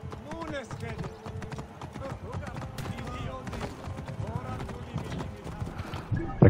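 Horse hooves clip-clop at a steady trot while riding in Assassin's Creed Origins, mixed with game music and effects as someone talks over it throughout.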